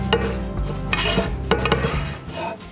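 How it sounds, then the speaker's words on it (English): A spoon scrapes and clinks against a dish while ground beef is stirred into rice, soup and beef broth, with wet squelching mixed between several sharp knocks. "Now go ahead and give this a nice stir, making sure all that meat's kind of spread around there and mixed in with the rice."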